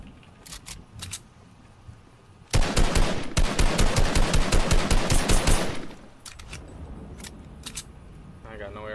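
Rapid automatic gunfire from a Fortnite weapon rips out in one loud, steady burst of about three seconds, framed by scattered single shots before and after and a voice talking over the game.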